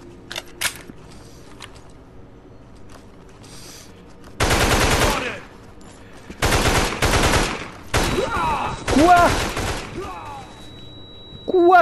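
Bursts of automatic gunfire from a video game shooter arrive in several loud, rapid volleys of a second or two each, separated by quieter stretches with faint game sounds.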